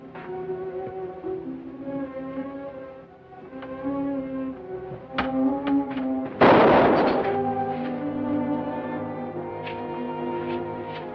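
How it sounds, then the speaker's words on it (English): A single gunshot cracks out sharply in an old 1945 mystery film scene, one loud burst that breaks through a sustained orchestral music score, with no talking over it. "You hear that shot?"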